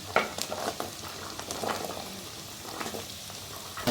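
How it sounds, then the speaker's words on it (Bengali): Cut potatoes frying with green chillies in a pan for a potato and yardlong bean stir-fry, a soft continuous sizzle broken by scraping stirs and light clinks, close and moderately quiet, no talking. "এখন আমি আলুটার সঙ্গে একটু ভালো করে ভেজে নিচ্ছি"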